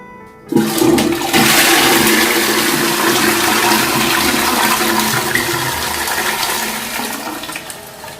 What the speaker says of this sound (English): I just need to flush it.